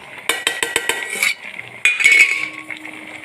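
A utensil mashing cooked puzhukku, a homestyle Kerala dish, in an uruli pot, making quick metallic clinks and taps in a rapid burst, a short pause, then more scraping knocks. No one speaks.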